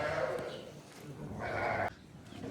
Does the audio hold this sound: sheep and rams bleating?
yes